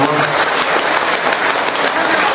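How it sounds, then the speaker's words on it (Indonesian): Audience applause filling a mosque, dense and sustained clapping from a large crowd throughout, close and loud with no pauses. "Boleh tepuk tangan untuk MRBJ."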